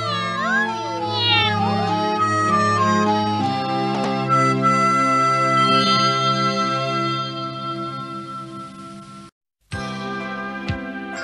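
Sung, melodic kitten meows over a steady musical backing, several drawn-out calls in a row before the music briefly cuts out.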